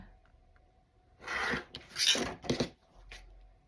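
A quilt block is trimmed along a ruler, with a few close, rasping cutting strokes in quick succession and near silence before and after.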